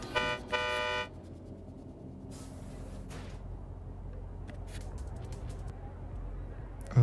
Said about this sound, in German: Betätige die Hupe.